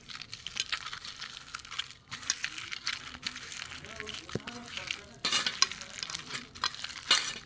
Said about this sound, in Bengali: মশলা দিয়ে দিয়েছি, পেঁয়াজ কুচি, লঙ্কা কুচি দিয়েছি, এবার আমি চটকে মাখবো